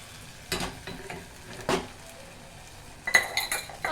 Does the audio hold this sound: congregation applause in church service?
no